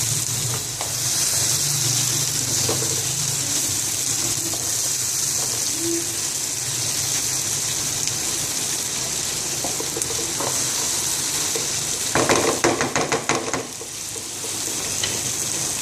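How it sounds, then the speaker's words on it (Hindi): A boneless fish mixture sizzling steadily in a hot pan while being stirred, with light scraping and clinking of a utensil toward the end, close and continuous with no talking. "और इसको बिल्कुल हल्के से मिक्स करेंगे।"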